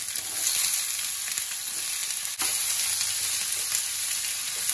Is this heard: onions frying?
yes